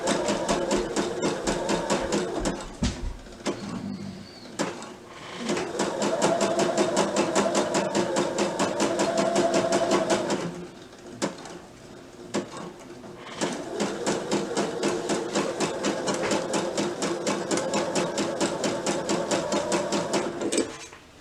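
A home sewing machine stitching in long, steady runs of rapid, rhythmic needle clatter, broken by a few brief pauses and start-stop bursts, close and clear.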